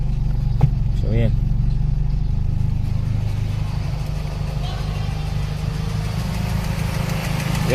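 A car engine idling steadily after a carburetor replacement, a low continuous rumble with a faint ticking from the cylinder head, while someone talks over it.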